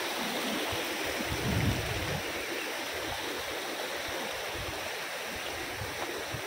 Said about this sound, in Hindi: सही में नदी ऐसे ऐसे क्रॉस करके आनी पड़ती है।